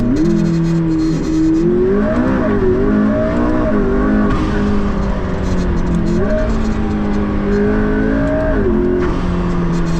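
Loud McLaren P1 supercar engine accelerating hard and close, the pitch rising and dropping through gear changes as a voice talks over it.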